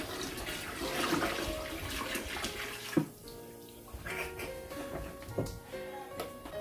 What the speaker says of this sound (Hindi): हम इसमें अपनी यखनी वाला पानी भी शामिल करेंगे